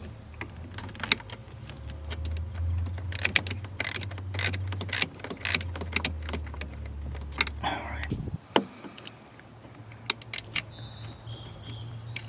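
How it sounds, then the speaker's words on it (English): A bolt is worked off a Ford F150 coil pack with a ratchet, giving rapid clicking and ticking bursts over a low motor hum that cuts out partway, followed by scattered metallic clinks and handling noises up close. "we're going to get the bolt off of that"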